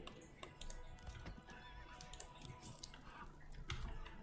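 A horse whinnies faintly in the medieval settlement-building game Manor Lords, with light hoof clops mixed in and soft computer keyboard tapping underneath.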